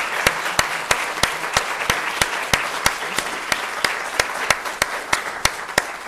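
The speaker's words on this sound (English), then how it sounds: "let's give a round of applause." An audience claps after a policy panel discussion, steady applause with a few loud, evenly spaced single claps cutting through close to the microphone.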